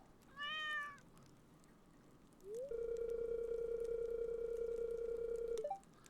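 Cat in the video game Stardew Valley giving one short meow, followed by a long steady electronic tone from the game.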